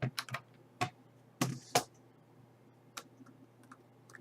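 Computer keyboard keys struck in a PC game session of Kingdoms and Castles, a few sharp, close clicks in quick clusters separated by quiet gaps, alone over a soft background hum.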